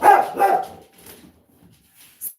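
A dog gives two loud, close barks in quick succession, then quieter whimpers and yips trail off with a brief sharp sound at the end.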